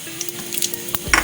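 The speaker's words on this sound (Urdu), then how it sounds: "زیرہ ہلکا سا براؤن کر کے ہم اس کو بھگا کریں گے، یعنی تڑکا." Cumin seeds crackle and hiss in hot oil in a pan for a tadka, a steady close sizzle with small pops and a scrape of stirring.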